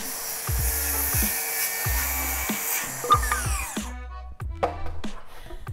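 Power saw cutting through a 2x4, a loud close whine that rises and bogs in short repeated bursts under the blade's load, with brief pauses between cuts.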